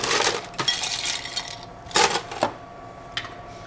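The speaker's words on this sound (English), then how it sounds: "I'm going to serve this over ice in a rocks glass." Ice cubes drop into a rocks glass in a few separate bursts of sharp, bright clinks and rattles, close by, with quiet gaps between them.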